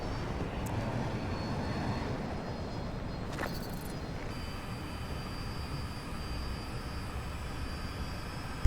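Fighter jet engine in Battlefield 2042, a steady roaring rush of thrust held at an even level throughout with a brief mechanical click partway.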